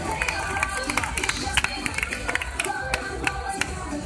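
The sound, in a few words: applause from crowd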